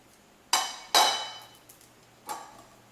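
A knife chops broccoli florets into smaller pieces on a cutting board, giving two sharp, close chops in quick succession and a softer third after a pause, in a quiet kitchen.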